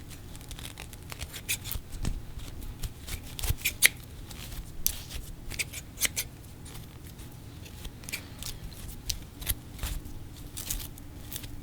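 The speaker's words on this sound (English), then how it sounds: "I'm gonna have to cut it down to fit" Scissors cutting paper down to size in a quiet indoor setting: soft, close snips and papery rustles in an irregular, steady stream, with no talking.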